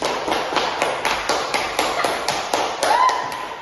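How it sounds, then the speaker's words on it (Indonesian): A classroom group claps together in about a dozen steady, evenly spaced bursts, close and moderately loud, with a brief tonal squeak near the end. "berikan aplaus untuk teman-teman"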